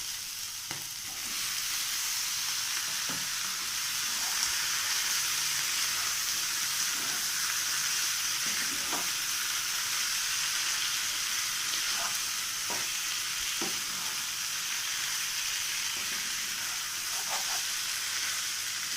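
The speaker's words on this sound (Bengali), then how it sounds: "পনিরটাকে আমি এইভাবে 2 মিনিট কষিয়ে নেব।" Paneer sautéed and stirred in a pan for a vegetarian aloo-capsicum dish, giving a steady loud sizzle throughout with occasional soft scraping strokes of the spatula, no voices.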